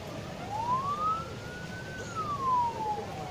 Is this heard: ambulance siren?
yes